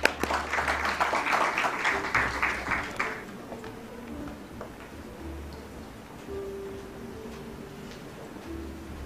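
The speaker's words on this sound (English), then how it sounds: "Let's give a huge round of applause for him" An audience at a stock listing ceremony claps for a few seconds, loud at first and then dying away into quiet room noise.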